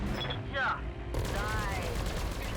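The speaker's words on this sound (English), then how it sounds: "My autocannon could do some serious damage." A mech's autocannon firing in Battletech: a quick volley of heavy gunfire bursts over game music, with a voice speaking during the clip.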